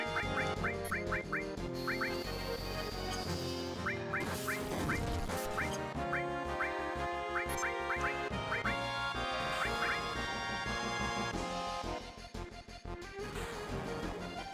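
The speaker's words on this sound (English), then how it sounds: "These damn birds." Repeated quacking bird calls from the 1997 Final Fantasy 7 video game, short squawks in clusters over continuous game music, loud and steady throughout.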